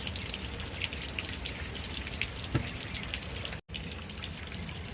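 A hose sprays water steadily over a mud-covered RC truck during cleaning, a continuous close gushing hiss with splashes, briefly cut off once near the end.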